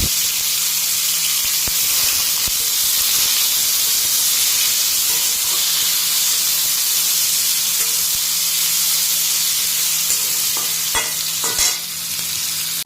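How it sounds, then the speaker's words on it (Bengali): Bay leaf, cumin and onion hit hot oil in a village kitchen, giving a loud, steady sizzle that fills the clip, with a few stirring clinks near the end. "তেজপাতা জিরে এগুলো সব তেলে ফোড়ন দিয়ে দিলাম এখন এটাকে পেঁয়াজটাও দিয়ে দিলাম"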